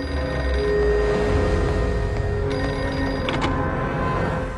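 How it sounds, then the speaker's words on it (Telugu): A public telephone on platform 1 of a railway station rings in an action film scene, a steady electronic ringing tone that holds throughout, close and fairly loud, with no voices. "ప్లాట్ఫామ్ నెంబర్ 1 మీద ఉన్న పబ్లిక్ టెలిఫోన్ రింగ్"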